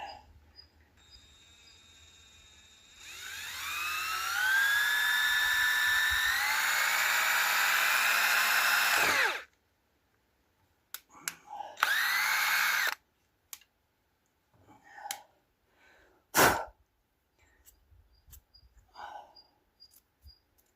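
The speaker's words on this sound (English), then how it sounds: "And then I drill it through there." A power drill bores through the steel oil pan of a Peugeot 504 diesel: a rising whine that holds for several seconds, then stops, followed by short bursts of drilling and scattered clicks and knocks.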